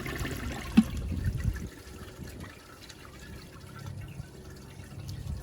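A Rheem Claymore toilet flushes with a low rushing of water that settles into a quieter trickle and refill, moderately close and fairly soft.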